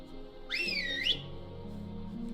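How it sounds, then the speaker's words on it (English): A loud, sustained whistle in Final Fantasy XIV sweeps upward and wavers for about half a second over steady synthesized tones, close and clear. "That was a very loud whistle."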